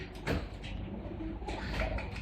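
Pigeons coo near a Sharjah to Dubai bus trip, a soft low throaty call rising twice over steady background rumble and hiss, with no speech.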